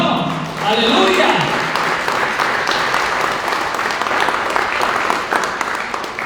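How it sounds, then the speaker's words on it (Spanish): A church congregation bursts into loud applause after a brief spoken line, the clapping swelling quickly and continuing as a dense, close crowd sound with voices mixed in. "Den un aplauso al Señor."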